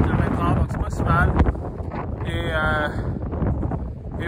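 Strong winter wind at about -20 degrees, gusting at 40-50 km/h, buffets the microphone with a low rumble while someone speaks over it.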